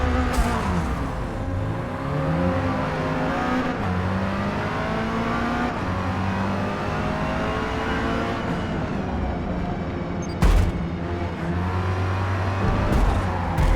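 Mazda MX-5 Rocket Bunny race car in Forza Motorsport (2023) online multiplayer, its engine droning and revving steadily through gear changes amid other cars in the race, with a brief bump partway through.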